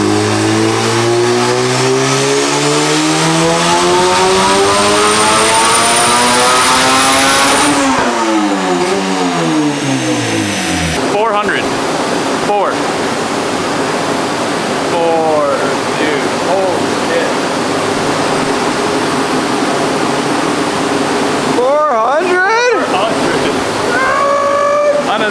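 Big-turbo Honda GSR engine with a 7-pound wastegate under heavy boost, loud and close, revving hard through rising pulls with sharp gear changes and blow-off bursts, while people talk over the engine.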